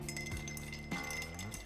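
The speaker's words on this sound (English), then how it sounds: "Now what we're gonna do is just give that a bit of a stir." A bar spoon stirs a Negroni in a mixing glass, giving a few light, close glassy clinks and a soft swirl of ice, with no talking.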